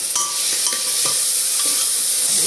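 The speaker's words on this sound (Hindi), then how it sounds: "अब मैं इसमें ऐड करूँगी जो टमाटो का जो मैं बनाया था, चॉप किया था" Chopped tomatoes hitting a hot pan for a chole bhature dish, a close, loud steady sizzle with repeated scraping strokes of a spoon stirring through it.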